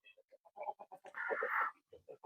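Australorp and Romanian egg-laying hens and roosters cluck in a quick series of short, close clucks, broken by one longer drawn-out squawk in the middle.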